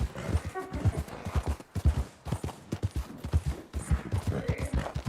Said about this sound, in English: I've been riding my horse for 90 seconds.